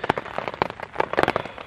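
Rain falls in an autumn forest at night, with close, irregular drops tapping and crackling on a nearby surface in scattered bursts, some louder hits standing out from a soft patter.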